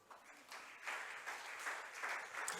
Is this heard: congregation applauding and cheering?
yes